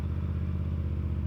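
CFMoto 450CL-C motorcycle engine running just after starting, a close, steady low rumble with a rapid even pulse and no talk.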